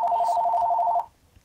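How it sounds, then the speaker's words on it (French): A telephone in a Fortnite match rings with a rapid, trilling electronic warble, loud and close, lasting about a second before cutting off abruptly into near silence. "Plus, j'ai un téléphone."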